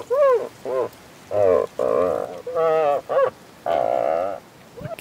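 Frog creatures in the video game Tails of Iron give a series of loud, throaty, croaking calls in separate bursts, each lasting under a second, with short gaps between them.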